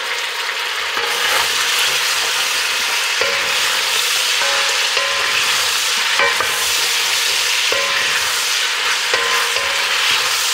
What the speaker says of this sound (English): And just sweat the onion down a little bit.